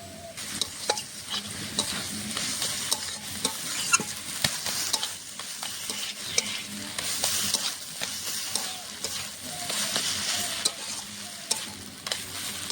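Rice flour paste made with water is stirred into greens frying in a pan with taki fish, giving a steady close sizzle with repeated scraping stirs throughout.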